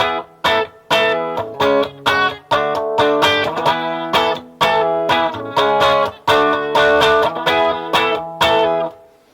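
A clean electric guitar through a Line 6 Pocket Pod amp modeler plays rhythmic strummed chords with crisp, sharp attacks and brief gaps between, bright and close with a touch of ambience.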